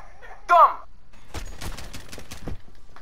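Call of Duty Modern Warfare machine gun fire, a rapid burst of close, sharp shots following a short chirp, with a voice speaking alongside.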